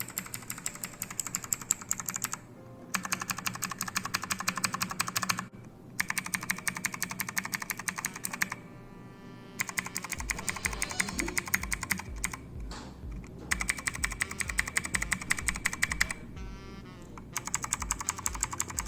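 Ant Esports MK-1000 mechanical keyboard keys clicking in quick bursts, including the top row of F1 and Escape keys, rapid tapping separated by short pauses, with one stretch of slower, heavier key presses.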